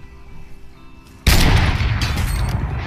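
Gunfire erupts in the shooter game Fortnite after a quiet stretch of ambience, a sudden loud, close burst of shots with a booming tail and a few further cracks that continue to the end.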